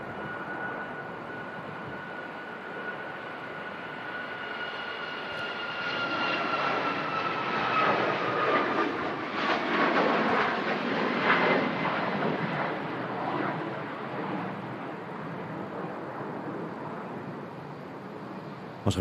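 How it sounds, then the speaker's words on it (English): A Ryanair airliner departing Manchester Airport for Malta in strong gusty wind: a steady jet engine roar that swells to a loud peak midway, then holds as the plane climbs away, with no voices. "Ryanair. Departing to Malta."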